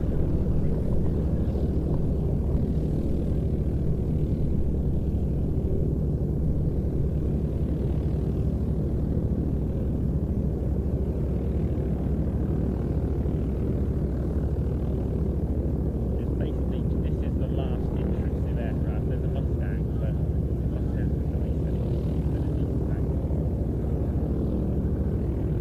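A Spitfire taxiing out toward the hold at an air display, its piston engine a steady low rumble running continuously throughout, with faint talk over it.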